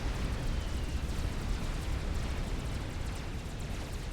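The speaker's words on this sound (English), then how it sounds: "those are a lot of bombs away" A dense barrage of bombs from strategic bombers explodes in a Supreme Commander: Forged Alliance battle, a continuous deep rumbling roar of overlapping blasts that stays loud and steady throughout with no pauses.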